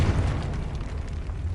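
A Confringo spell blast in a video game, one heavy booming explosion with a deep rumbling low end that fills the whole moment, loud and close, with no voice over it.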